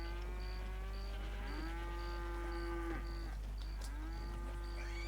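Calves moo in drawn-out, overlapping calls over a constant low hum and a faint repeating beep, heard on a ranch in the Red Dead roleplay game.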